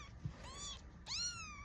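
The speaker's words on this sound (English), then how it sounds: "That's Nutsy in the background saying hi in the background" A cat meows twice in the background, two short, faint, rising calls about half a second apart in an otherwise quiet room.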